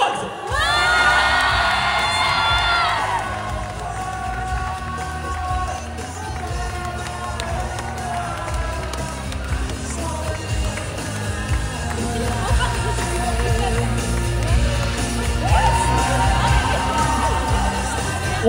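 At the Troyes Japan Otaku Festival 2025 a large crowd cheers for a Furina cosplay from Genshin Impact, loud and sustained, with whoops and high shouts rising near the start and again near the end.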